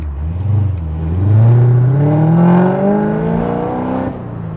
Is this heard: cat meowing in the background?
no